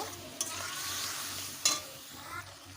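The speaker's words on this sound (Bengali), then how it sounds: "পোস্ত সর্ষে বাটার জলটা ছিল সেটাও ওর মধ্যে দিয়ে দেব একটু নেড়ে চেড়ে নেব" A watery poppy seed and mustard paste is stirred into a sizzling pan, a soft continuous fry hiss with a couple of sharp utensil clacks against the metal.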